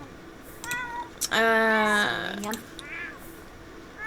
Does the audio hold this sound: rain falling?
no